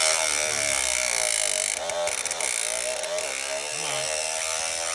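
Socket ratchet wrench working loose a housing bolt on a 2007–2011 Honda CR-V during a cooling system overhaul, giving a steady, loud, close mechanical clicking and whirring rattle that runs the whole time with brief dips.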